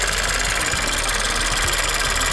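A 2015 Ford Fusion EcoBoost engine runs steadily just after a high pressure fuel pump replacement, giving a close, continuous idle with a faint ticking knock throughout.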